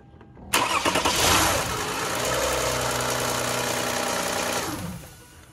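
A 2005 Lexus ES330 3.3L V6 engine cranks and fires up abruptly, then settles into a steady idle for several seconds before shutting off; no voices.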